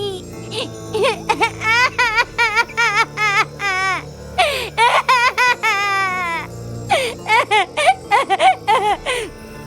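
A small child in a horror podcast sound effect cries and sobs in repeated wailing bursts with short gasping pauses, loud and close, with whimpers between the sobs.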